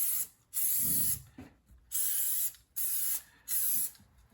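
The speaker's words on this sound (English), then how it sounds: "I've got my Elmer's spray adhesive, so I'll start by just putting a little strip here" Elmer's spray adhesive hisses from an aerosol can in four close bursts of about a second each, broken by short pauses, while being applied to a car interior during an MG TD restoration.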